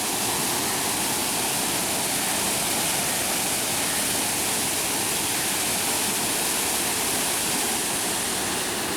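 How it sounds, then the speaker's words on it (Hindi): Steady, loud broadband rush of a well-known scenic waterfall near Muzaffarabad in Azad Kashmir, heard close and continuous for the whole stretch with no talk over it. "चले मैं चलती हूँ उस आबशार की तरफ जो यहाँ की बहुत मशहूर आबशार है और बहुत खूबसूरत है।"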